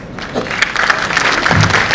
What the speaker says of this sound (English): A huge round of applause for our chairman